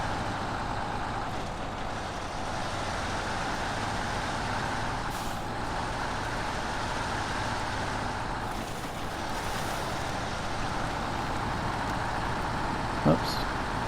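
A heavy modded Pac Lunx truck in the SnowRunner video game drives with a steady, loud engine drone and rumble throughout, plus a brief hiss near the end, with no talk over it.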